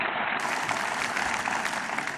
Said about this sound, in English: Somebody ought to applaud both of them here.